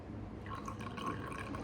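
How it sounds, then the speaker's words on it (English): Turmeric solution is poured into a basic detergent solution, making a faint, soft trickle with light dripping, close and quiet, with no voices. "when we pour some turmeric solution into the basic solution of detergent"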